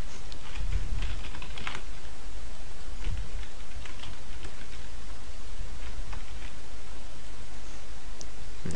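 Steady typing on a computer keyboard while entering a login for the CryEngine 3 SDK, a continuous close run of quick key clicks with no speech.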